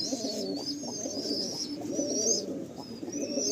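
Pigeons in a loft coo steadily in low, rolling murmurs, several birds overlapping close by, with faint higher chirps drifting over the continuous cooing.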